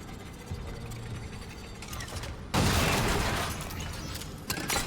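Weapon fire in the sci-fi survival horror game Dead Space: a dense, mechanical burst that starts abruptly partway through and holds loud and close over a steady game-audio backdrop, with a sharper hit near the end.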